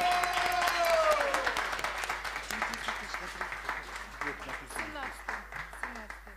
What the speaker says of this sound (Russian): Еще раз похлопаем.